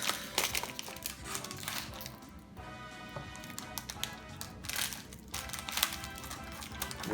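Pokémon booster pack wrapper crinkling and crackling as it is opened by hand, close and busy with sharp rustling bursts, a brief lull midway, then more crinkles.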